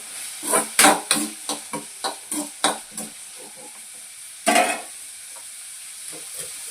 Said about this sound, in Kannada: ಇದು ಫುಲ್ಲು ಮಿಕ್ಸ್ ಮಾಡಿಕೊಂಡು ಈ ಥರ ಫ್ರೈ ಆಗಬೇಕು.